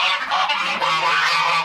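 Geese or ducks honking and calling continuously in a farm poultry shelter with a water trough, a dense, steady flock chorus close by with no talking.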